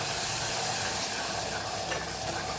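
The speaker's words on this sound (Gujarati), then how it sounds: "જે ખાંડણીની અંદર આપણે મસાલો ખાંડેલો એની અંદર 2 થી 3 ચમચી જેટલું પાણી ઉમેરી અને મસાલાને સરસ આપણે સાતળી લેવાનું છે" Spice masala for Kathiyawadi chorinu shak sautés in a pan with two to three spoons of water, a constant close sizzle and hiss with soft stirring throughout.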